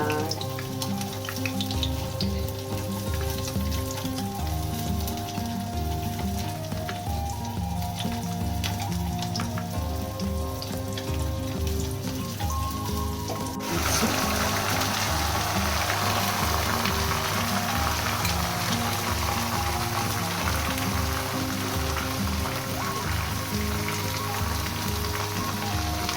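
Dry red chillies torn into hot oil with soaked chana dal, mustard seeds and curry leaves for South Indian lemon rice, giving a steady close sizzle that grows brighter and louder partway through, with no talking.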